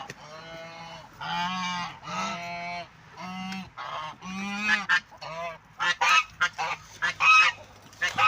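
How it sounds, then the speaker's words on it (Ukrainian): Geese honk repeatedly, loud and close, a run of harsh nasal calls followed by quicker, choppier honks. "Там в мене ще гуси."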